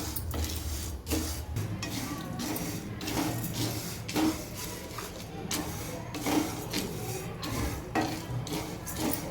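Moong dal dry roasting in a pan over a medium flame for Andhra-style kandi podi gun powder, stirred with steady scraping and rattling clatters, close by, with no one speaking.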